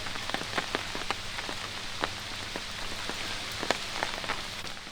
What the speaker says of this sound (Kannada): ಬೆಳಗಾವಿ ಜಿಲ್ಲೆಯಾದ್ಯಂತ ಕಳೆದ ಎರಡು ದಿನಗಳಿಂದ ಧಾರಾಕಾರ ಮಳೆ ಆಗ್ತಿರುವಂಥದ್ದು